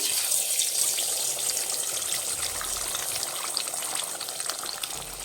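Eggs crackle and hiss in hot oil in a pan, a steady close sizzle with no talking.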